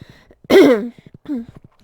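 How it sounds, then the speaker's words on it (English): A single harsh, close cough followed by a shorter, softer second cough, with faint clicks and breathing between. "excuse me for coughing"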